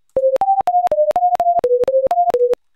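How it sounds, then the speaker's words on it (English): Ten short pure tones generated and mixed with SoX software, each pitched randomly between 400 and 800 Hz and lasting about a fifth of a second, play back in a quick, clean, evenly spaced sequence with clicks at each edge. "we're going to generate a random tone, again, between 400 and 800 in the frequency here"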